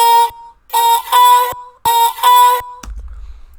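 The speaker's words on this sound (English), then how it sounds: "without all this, it sounds like a pitched up version of the vocal." A high, pitched-up vocal sings two bright phrases with short gaps between them, loud and close, then cuts off into a low rumble.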